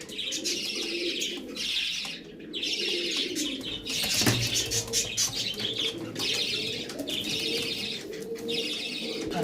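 Pigeons in a loft coo and chirp in overlapping calls, fairly close, with a brief flutter of wings partway through and a constant murmur of many birds.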